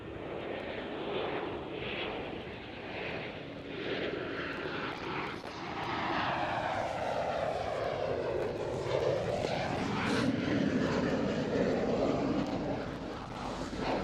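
A KLM Cityhopper Embraer E190 jet roars past an airport at Amsterdam Schiphol, a sustained broadband engine rumble with a pitch sweep as it passes, moderately loud and steady throughout with no talking.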